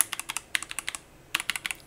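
Typing on a Zifriend ZA63 mechanical keyboard: two quick bursts of crisp, clacky keystrokes with a short pause between, close and clear, no talk.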